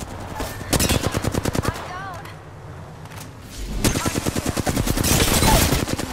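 Rapid bursts of automatic gunfire crackle in the Apex Legends video game, two sustained volleys separated by a brief lull, with a player's voice talking over the shots.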